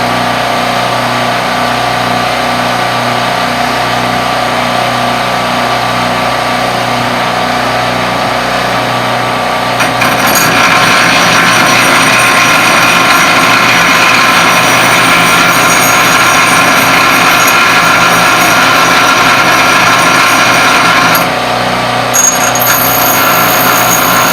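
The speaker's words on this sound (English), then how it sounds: "I got generator running in the background and grinder going in the front here" A generator drones steadily in the background while an angle grinder whines loudly up close, its harsh continuous grinding filling the whole stretch with only slight shifts in pitch, working on a half axe tomahawk.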